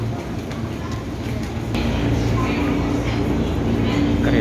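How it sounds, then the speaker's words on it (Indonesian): An electric commuter train in Jakarta rumbles steadily from inside a carriage, the low drone swelling slightly after a moment, with faint voices in the background. "Kita mau ke Depok naik kereta yang ke Bogor."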